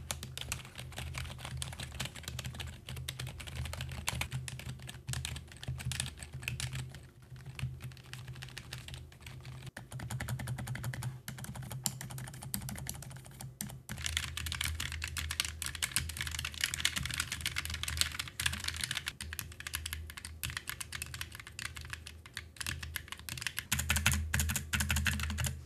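Rapid typing on a ROCCAT gaming keyboard with clicky keys fills the clip with a steady, close stream of light clicks and clacks, continuous and fairly quiet, with no voice.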